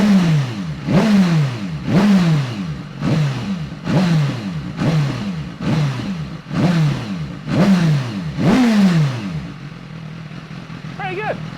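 A BMW S 1000 RR superbike with its stock silencer and airbox removed is revved hard about nine times in a steady rhythm, each blip rising and falling sharply, loud and close, then settling to idle.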